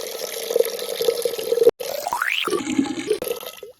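Water is poured into a clay cooking pot for a traditional tribal meat dish, a close gurgling stream whose pitch rises as the pot fills, broken by a brief pause and splashes.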